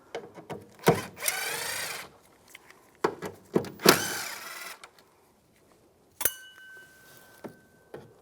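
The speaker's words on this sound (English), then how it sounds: "Using a T15 socket, we're going to take all these screws out" T15 socket on a ratchet backing out screws from a 2015-2020 Cadillac Escalade tail light, with close bursts of rapid ratchet clicking and whirring, separated by scattered knocks, clinks and a short silence.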